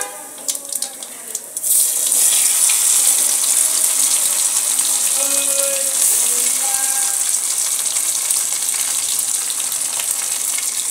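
Potatoes tipped into hot oil with cumin and black cumin seeds, setting off a loud, steady sizzle that holds for several seconds after a quieter start.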